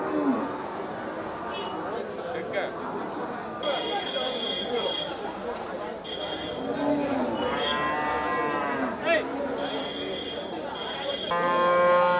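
Cattle, including native draught bullocks, moo at the Melapalayam cattle market, with drawn-out lowing calls rising above a busy crowd din and nearby voices, one long moo standing out near the end.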